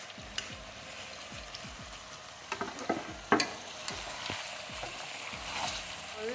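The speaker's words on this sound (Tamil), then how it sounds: "எல்லா மசாலா ஆட் பண்ணியாச்சு. இப்போ கிண்டி விட்டுக்கலாம்." Masala for mutton biryani is stirred in a pan, with a soft sizzle of frying and repeated scraping strokes of a spoon against the metal, quiet and close.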